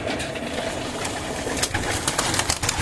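A flock of young racing pigeons released together gives a dense, steady wash of wing flapping and soft cooing, fairly close and continuous, with no talk over it.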